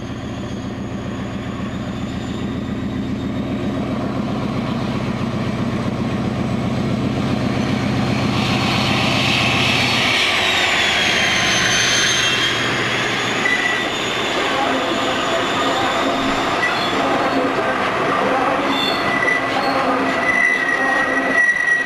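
Scale model railway layout of Heaton Junction running, with a steady rolling drone and wheel squeal that shifts midway into higher metallic screeching and clatter, continuous and fairly loud throughout.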